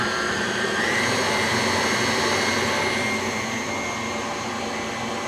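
Electric mixer whirring through tres leches cake batter with vanilla extract, a steady loud motor whine and hum held unbroken for several seconds, with no talk.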